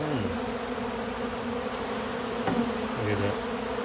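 A swarm of honeybees buzzes around a cup near banana tree leaves, making a continuous low, even drone that stays fairly quiet throughout.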